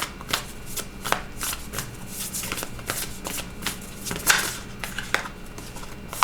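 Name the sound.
tarot cards being shuffled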